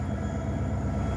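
Steady low diesel rumble and rail noise from an EMD SD40-2 locomotive, unit 3366 on a Norfolk Southern local, passing in the snow, continuous and fairly close with no talk.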